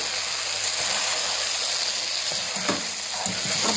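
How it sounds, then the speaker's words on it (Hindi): Potato and eggplant curry with fresh coriander frying in a pan, a steady close sizzle and hiss with a few soft stirring scrapes. "अब हम इसमें ऐड करेंगे सब्ज़ धनिया, ऐड कर लें, इसे अच्छी तरह से भून लें।"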